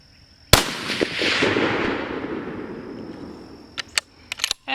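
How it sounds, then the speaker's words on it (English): A 6.5 Creedmoor bolt rifle fires a single sharp, loud shot at a target outdoors, and the blast rolls off in a long fading echo. Several quick clicks and clacks follow near the end. "I'm just gonna get on target and pop some rounds."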